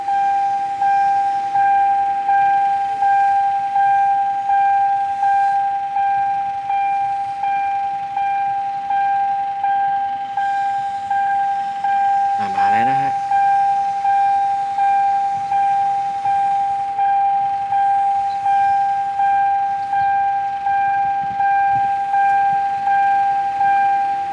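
A steady two-tone electronic warning siren at a Thai railway level crossing, fitted with LED lights, repeats in an even, rapid pulse throughout, loud and close, with a brief whooshing passby of a diesel railcar partway.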